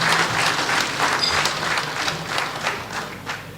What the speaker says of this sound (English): Can we please appreciate His Excellency with another round of applause?